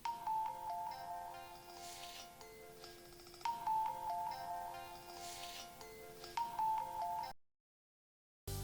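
A telephone ringtone plays a repeating bright electronic melody in three cycles at moderate volume, then cuts off suddenly into silence, with no talking.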